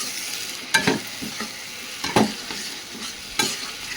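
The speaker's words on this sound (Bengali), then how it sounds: "এখন এই মশলার সাথে চর্বিগুলো কষিয়ে নেবো" Mutton fat frying in a pan with spice paste for a mutton biryani, with a continuous sizzle and a few sharp stirring scrapes at intervals, close by with no talking.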